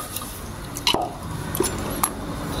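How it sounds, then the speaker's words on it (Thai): A liquid mixture pours into a drinking glass in a short, quiet run of wet splashes and drips, close to the microphone, with no talking. "เสร็จแล้วเราก็มาเทใส่ในแก้วน้ำของเราครับ"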